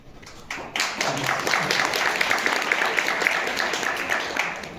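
Audience at a science conference breaking into applause, a dense patter of many hands clapping that starts abruptly and holds steady and fairly loud to the end.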